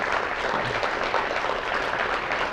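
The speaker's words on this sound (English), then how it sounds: "I really would like to have them a big kind of applause" A banquet audience claps at a math awards event, a steady wash of many hands at moderate loudness that holds evenly throughout with no pause.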